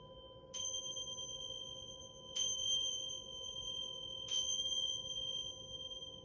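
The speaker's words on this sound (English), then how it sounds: "you could have these cool chimes" Three bright metallic chime strikes, evenly spaced about two seconds apart, ring out and fade slowly over a soft steady hum, closing a sound bowl massage session.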